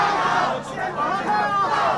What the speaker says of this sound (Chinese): 支持者簇拥上前，韩国瑜才下车，现场欢呼声不断